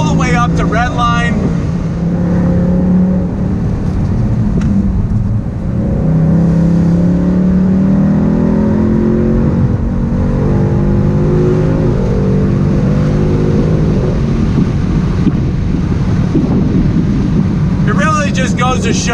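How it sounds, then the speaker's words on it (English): A 2019 Ford Mustang GT California Special convertible revs hard through its gears toward the red line, the engine note rising and falling loudly and continuously for nearly twenty seconds. "Power delivery so smooth all the way up to red line."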